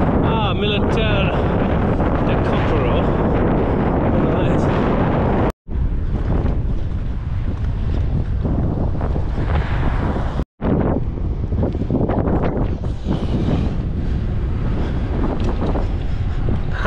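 Strong headwind buffeting a bikepacker's microphone on a road in southern Spain, a loud, continuous roaring rush that fills the whole stretch, with two brief dropouts and no clear talk.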